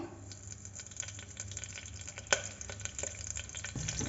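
Curry leaves, cumin and mustard seeds frying in hot oil for an Andhra stuffed eggplant curry, a steady close sizzle with scattered pops and crackles, moderately quiet and without talk.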